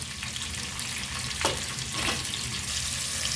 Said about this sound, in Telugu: తర్వాత ఉల్లిగడ్డలు వేసుకో, మనం తరుముకున్న ఉల్లిగడ్డలు ఉన్నాయి కదా, ఉల్లిగడ్డలు వేసుకోవాలి